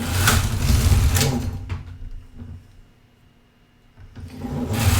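A Singer knitting machine knitting 2 x 2 industrial rib, loud mechanical carriage runs with a rushing whir, easing to a quiet pause in the middle before the carriage passes resume.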